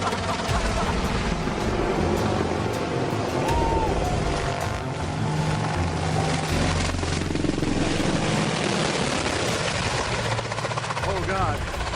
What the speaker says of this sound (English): this helicopter pilot was showing off his skills in an Apache helicopter.